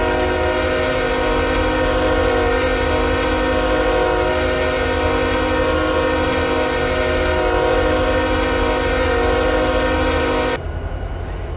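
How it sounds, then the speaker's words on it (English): Canadian Pacific and Canadian National freight train horns in a model sandbox layout sound one long, loud, steady chord that holds for about ten seconds and then cuts off, leaving a quieter rail rumble underneath. "that is all of the train horns of the Canadian Pacifics and Canadian National"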